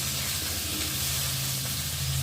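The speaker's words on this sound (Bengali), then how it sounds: "দেখো এখন আলুটা একটু ভাজা ভাজা হয়ে যাচ্ছে" Potatoes frying in a pan for a vegetarian dish, a soft, steady sizzle with a faint low hum underneath, continuous and fairly quiet.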